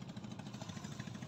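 A twin-engine outrigger boat in Bohol, Philippines runs with a steady, low, throbbing engine drone, faint and continuous with no talk over it.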